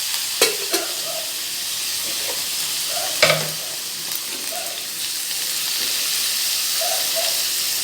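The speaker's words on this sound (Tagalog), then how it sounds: "Lagay natin yung ating chicken. Igisa lang natin." Chicken pieces sautéing in a pan for adobong sitaw, a steady broad sizzle with a few sharp clinks of a utensil against the pan near the start and middle, no talk.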